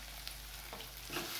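Leftover chapati poha is stirred in a pan as turmeric goes in, giving a soft scraping and faint sizzle over steady background hiss, close and brief.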